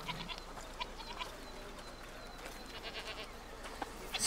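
Goats bleating in the video game A Plague Tale Requiem, a few faint, short bleats scattered over ambient background noise, with some quiet voice sounds around them.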